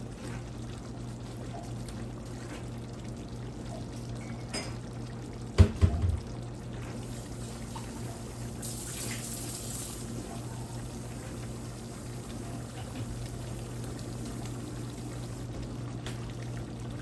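A cup of water is poured into a pot during curry chicken cooking, a steady liquid pour heard faintly over a constant low kitchen hum, with a brief clunk midway.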